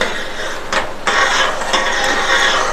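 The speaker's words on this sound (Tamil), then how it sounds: "வறுத்து வச்ச ரவையை கொஞ்சம் கொஞ்சமாக இதில் சேர்த்து கிண்டிகிட்டே" Steady scraping and stirring in a pot as semolina is added to boiling water for upma, a broad gritty hiss, brief pauses, continuous for a few seconds, close by.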